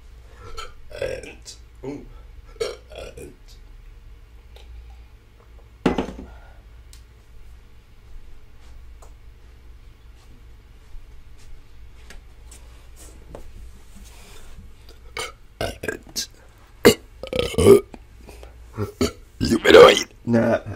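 Several loud burps erupt near the end, following sparse earlier ones amid quiet background hum from a computer fan, with bursts clustered in the final seconds.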